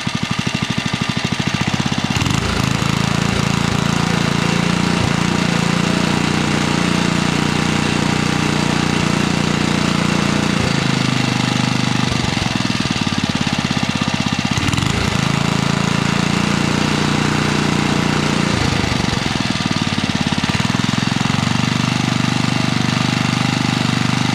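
A small motor runs steadily and loudly at close range, with a continuous rapid knocking chug that holds an even pace throughout.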